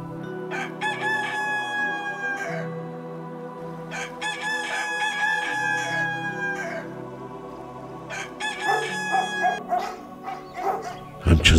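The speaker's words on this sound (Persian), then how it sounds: "صبح آمد خروس میخواند" A rooster crows loudly and close several times in long drawn-out calls, with a dog barking and other fowl clucking around it and no talk.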